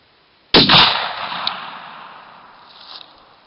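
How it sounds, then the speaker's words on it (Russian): A single loud gunshot from an Izh-94 Sever combination gun fires outdoors, a sharp crack followed by a long fading rumble of echo and no voices. "Стреляю, прицеливаясь под яблочко."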